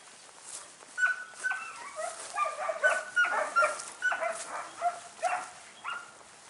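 Akbash shepherd dogs on a farm bark in a run of repeated, fairly close barks, about a dozen in steady rhythm, with no talking over them.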